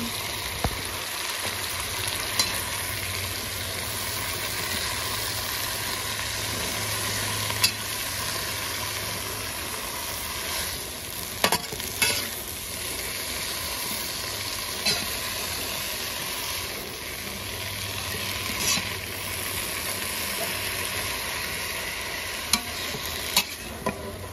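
Sayote shoots adobo stirred in a pan, a steady sizzle of frying with scraping spoon strokes against the metal at irregular intervals, close and continuous with no talking.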